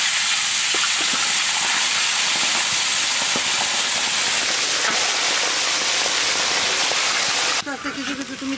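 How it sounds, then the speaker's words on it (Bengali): Fish heads sizzle in hot oil in a pan, a steady loud hiss of frying throughout, briefly interrupted near the end by a shift in the sound. "আমাদের যে 5 মিশালি সবজিটা হবে তার জন্য মাথা ভেজে নেবো আগে।"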